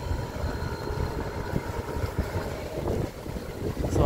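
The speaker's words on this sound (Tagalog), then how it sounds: "So ang daming motor." Many motorcycles pass along Chongchon Road in Shulin, New Taipei, heard as a dense, continuous engine drone close by, with rumbling low end and no break across the few seconds.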